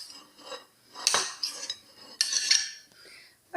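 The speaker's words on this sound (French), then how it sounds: "Voilà, et on mélange." A utensil scrapes and clinks against a bowl while yogurt cake batter is mixed, with two vigorous bursts of stirring separated by quieter pauses, close and with no talking.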